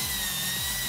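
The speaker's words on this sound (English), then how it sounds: "now we're just going to use a square number 2 bit to remove our screws" A power drill fitted with a square number 2 bit whirs briefly and continuously up close, backing screws out of the cover of a Brisk II RV air conditioner.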